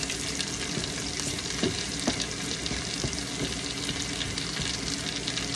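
Garlic frying in cooking oil in a pan for fried rice, a steady close sizzle with crackling pops and occasional stirring clatter, no voices.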